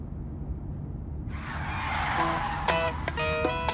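A car turning around in a dramatic scene: an engine rush swells up suddenly, followed by a few sharp, squealing tire screeches near the end, fairly loud and close, with no speech.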